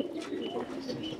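Soft, throaty cooing of pigeons, low and continuous, with a faint chirp or two above the murmuring calls.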